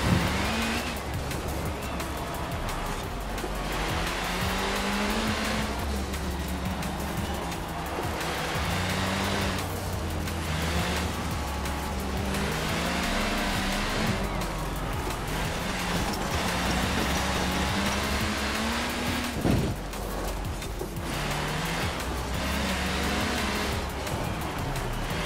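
Racing cars in Forza Horizon 4 drone steadily throughout, with engine notes rising and falling as they shift, and a brief thump near the end from a collision.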